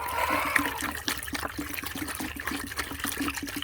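Cool water poured out for backyard chickens in hot weather, a steady splashing and trickling stream running throughout with no pause.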